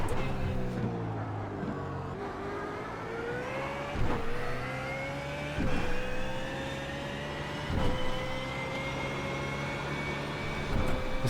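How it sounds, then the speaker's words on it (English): A damaged BMW race car in the iRacing simulator howls through repeated upshifts, its engine pitch climbing and dropping at each gear change, with someone talking over it. "I'm really trying to hustle this poor limping BMW."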